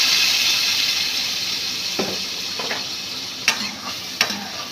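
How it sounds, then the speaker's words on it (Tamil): Ground spicy kara chutney poured into a hot tempering with curry leaves sends up a loud, steady sizzle that gradually fades, marked by a few sharp clicks and clinks of a utensil. "நம்ம அரைச்சி வச்ச இந்த கார சட்னியை ஊற்றி வச்சுங்க"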